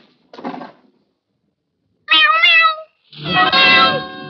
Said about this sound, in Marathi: मांजर जॉनी म्हणते.